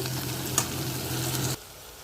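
Okra frying in oil gives a steady, close sizzle with a brief crackle, then it drops sharply to quiet after about a second and a half.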